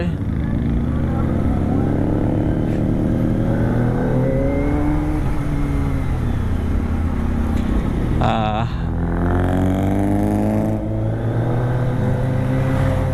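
A car engine revs with rising and falling pitch, loud and close, over a steady motor drone during a road ride, with people talking throughout.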